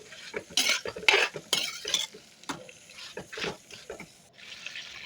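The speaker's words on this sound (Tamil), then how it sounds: "நல்லா வதக்கிக்கலாங்க." Half a kilo of salted chicken is stirred and fried in a pan for a simple chicken fry, with a utensil scraping and clinking against the metal in irregular strokes over a soft sizzle, close up and with no talking.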